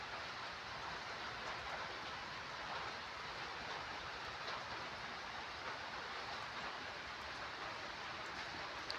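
Rain falls steadily as an even, faint hiss with no pauses and no voices.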